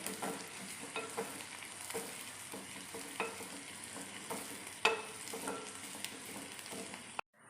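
Curry leaves sizzle and crackle loudly in a hot pan, a steady frying hiss broken by sharp pops and a few stirring scrapes.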